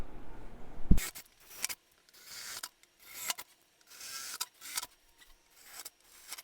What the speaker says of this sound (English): I'm gonna go up in size now for my drill bit.